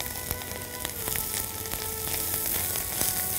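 Onions sizzle steadily in a hot pan at close range, a dense crackling hiss broken by frequent sharp pops, with no voices.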